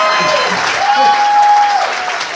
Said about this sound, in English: Clap it up for the DJ.